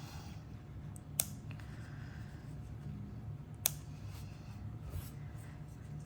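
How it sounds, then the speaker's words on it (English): Scissors snipping black yarn while crocheting a bear, two sharp distinct clicks a few seconds apart over a low steady room hum, close and quiet. "Then I'm going to cut."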